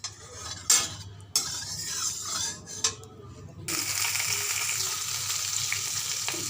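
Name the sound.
fish frying in oil in a kadai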